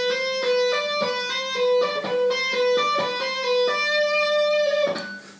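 A guitar picks a short repeating four-note pattern, a 1-2-1-3 root form lick, as clean, bright single notes in an even, steady rhythm, played close with no talking.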